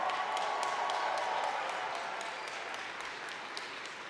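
Steady audience applause at a university convocation ceremony, a dense wash of many hands clapping at once, sustained throughout and easing slightly toward the end.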